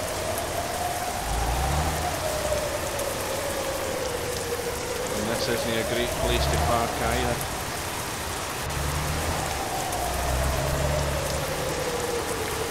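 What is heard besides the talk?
heavy rain in a video game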